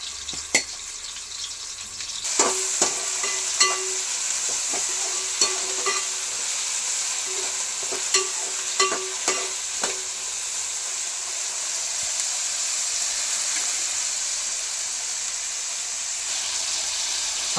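Tomato rice ingredients with green chillies being stirred and mixed in a hot pan, a steady frying sizzle under irregular scraping and clinking strokes of the spoon, fairly close and moderate in level, no voices.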